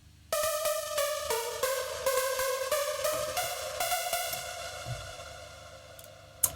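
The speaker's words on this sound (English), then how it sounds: "Okay, again, this one is Icarus lead." Icarus synthesizer lead playing a melodic line for a Dreamstate Europe 2020 trance anthem, bright and harmonically rich with punchy repeated note attacks, fading into a sustained tail.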